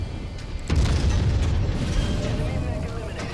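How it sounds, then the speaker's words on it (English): In the MechWarrior 5 game, a mech's ammo cooks off in a sudden deep boom followed by a rumbling, sustained roll of explosions that fades gradually. "Looks like he's having ammo explosions."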